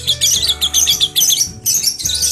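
A caged lovebird sings a rapid chirping song in dense, high bursts separated by short pauses, close and loud, with a low electrical hum beneath.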